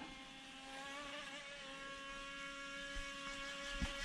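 A UDI RC Venom remote-control boat's electric motor whines steadily out on the water, a constant high buzzing whir at moderate distance with faint bumps near the end.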